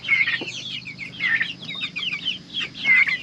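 Turkeys cluck and call softly, repeated in short bursts over a steady low background hum, fairly close.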